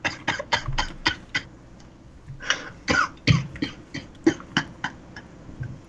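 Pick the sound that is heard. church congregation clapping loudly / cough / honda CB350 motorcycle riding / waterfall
cough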